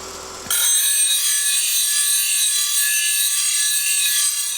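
The heel is ground off the bevel of a woodturning bowl gouge: a sudden bright, hissing grind starts after half a second and holds steady and loud to the end.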